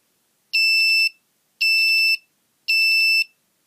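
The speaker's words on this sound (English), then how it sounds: "so it does beep three times at 12 o'clock" Chinese electronic clock kit chiming at midday: three identical loud, shrill electronic beeps, each about half a second long, evenly spaced in a clean silence.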